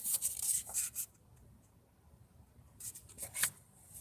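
Playing cards being shuffled by hand, two bursts of crisp riffling and rubbing separated by a quieter pause, close and fairly faint, with no talking.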